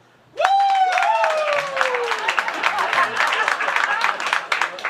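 Debate audience clapping to register an undecided vote, a dense burst of hand claps starting abruptly and holding steady with a whistle-like tone and crowd noise mixed in.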